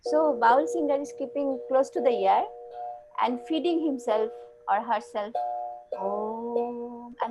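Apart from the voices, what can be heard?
No everyday noises stand out.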